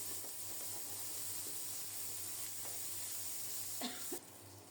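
Chopped onions fry in a pan and are stirred until brown, giving a steady, moderately quiet sizzle with a few soft stirring scrapes near the end.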